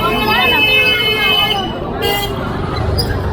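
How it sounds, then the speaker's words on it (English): Busy street traffic in Amritsar, Punjab, India, with a car horn tooting amid a dense roar of vehicles and crowd babble; nearby voices talk throughout. "Usual honking."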